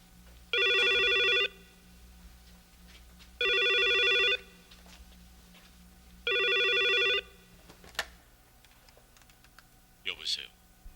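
An old landline telephone rings three times with an electronic trill. Each ring lasts under a second and is separated by steady pauses, followed by faint clicks and handling noise of the receiver being picked up in a quiet room.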